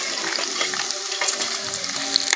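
Green chilli, ginger and peanuts fry in oil along with onion and garlic, giving a busy, close crackling sizzle with stirring and spattering throughout.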